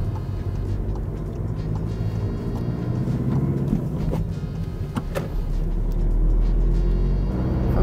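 A car accelerates during a driving lesson on a wide road where 70 is allowed, its steady engine and road noise filling the cabin and swelling slightly louder toward the end.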